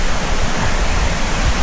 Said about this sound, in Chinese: 原来这个瀑布是从这里流下来